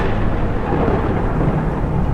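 Thunder rumbles continuously during a winter storm around a medieval castle, a dense low roll mixed with wind and rain, loud and unbroken with no speech.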